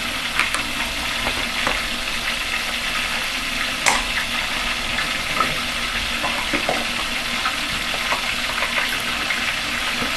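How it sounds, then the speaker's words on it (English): Ground white pepper and adobo fry in a hot pan with a steady, fast sizzle, broken by occasional clicks and scrapes of stirring, close and continuous with no talking. "At this point you can reduce the heat because it's frying very fast"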